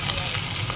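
Pork ribs fry in a pan for monggo with malunggay, giving a brief, steady sizzling hiss that sounds close.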